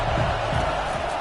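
Dense, steady roar of a college football stadium crowd cheering during a Razorbacks game in the College Football 25 video game, loud and continuous throughout with no clear break.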